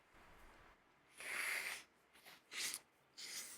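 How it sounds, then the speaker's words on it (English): A person sniffs at their elbow, a few short, breathy sniffs and snorts in bursts, close but quiet against a faint background. "He's sniffing his elbow."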